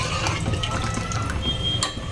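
Water pours from a glass into a pot of dal being cooked for Gujarati dal dhokli, a soft steady splashing and trickling stream, close and moderately quiet, running continuously.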